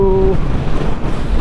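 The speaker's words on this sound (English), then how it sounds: "That ruddy wind." Strong wind buffets the microphone on a Honda CB500X motorcycle ride through the Scottish Highlands, a loud, constant roaring rush with a brief tone at the very start.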